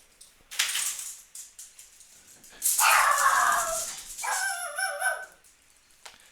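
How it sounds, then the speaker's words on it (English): A pet dog barks and yips in several excited bursts close by, with whimpering between the outbursts and no talking over them. "my dog just spazzed out there"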